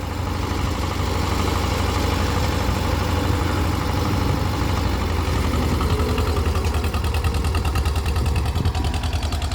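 An old Escort 335 tractor, about 25 to 30 years old, idling on a farm, a loud close diesel engine with a steady low rhythmic chug running continuously without any talk.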